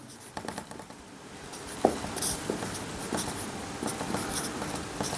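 A pen scratches steadily across paper while a math solution is written out, with quick close strokes, brief pauses and a few sharper taps against a faint room background.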